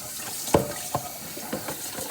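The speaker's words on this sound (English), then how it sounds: "I like just rinse it off real quick. Try to get all the blood out." Raw chicken is rinsed under a kitchen tap in the sink, soft running water broken by several distinct splashes and clunks roughly every half second, close by with no voices.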